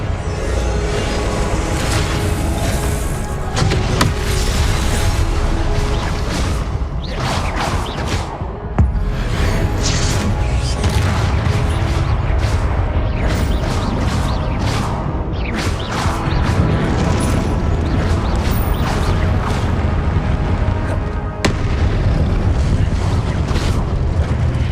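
Spell-casting combat in Hogwarts Legacy, with Expelliarmus and Confringo cast repeatedly: a dense, loud stream of booms, whooshes and crashing blasts over a constant game backdrop, with a voice calling out between the impacts.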